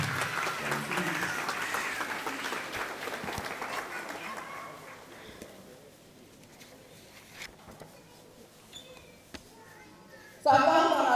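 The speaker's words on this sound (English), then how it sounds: "So let's give us a round of applause one more time." An audience gives a round of applause at an awards event, a full burst of clapping that thins out after about five seconds into scattered claps and murmuring, before a sudden loud noise near the end.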